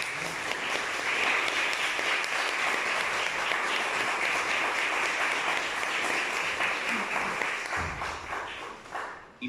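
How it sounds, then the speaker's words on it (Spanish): An audience at a book presentation for a novel breaks into sustained applause, a dense, even wash of clapping lasting around nine seconds before tapering off, with a faint voice near the end. "quisiera pedirles un muy, muy fuerte aplauso"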